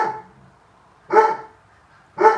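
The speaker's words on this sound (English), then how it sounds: "my dog's barking" A dog barks in three sharp, loud, close single barks spaced about a second apart, with quiet in between and no talk.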